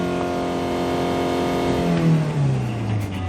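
A 2007 silver Kia Sorento diesel with automatic transmission accelerating, its engine droning loudly and steadily up close, the pitch climbing and then dropping as it revs, with no voices.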